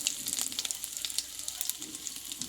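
Finely chopped ginger frying in hot oil for a chana dal snack gives off a brisk, crackling sizzle with quick pops, close and continuous, with no voices.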